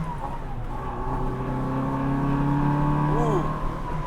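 A 1965 Austin Mini Cooper with a Cooper S three-synchro gearbox accelerates, its engine note climbing steadily in a close, loud in-car drone with a brief rising whine near the end.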